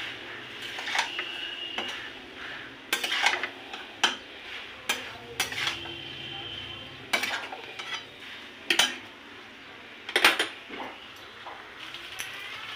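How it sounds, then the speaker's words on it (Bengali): Spoon stirring squash curry with spices in a cooking pan, with repeated sharp metallic clinks and scrapes at an uneven pace over a faint steady background hiss, close by, with no one speaking. "এবার মশলা দিয়ে এটা আমি কষাতে থাকছি"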